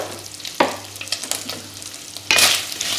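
Bacon frying in a pan with added oil, a steady close sizzle broken by stirring scrapes, with a louder burst of crackling near the end.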